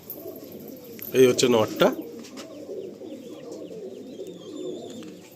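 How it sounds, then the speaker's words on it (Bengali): Pigeons coo softly and steadily in a loft, with a louder burst of activity near the start and someone speaking briefly over the birds. "নিচের দিকে পায়রাগুলো আছে"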